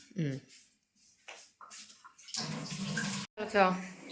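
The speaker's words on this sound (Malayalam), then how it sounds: "വെള്ളം തിളച്ചു" Bubbling, rushing noise of water coming to a boil in a cooking pot rises in the middle, with a person talking over it.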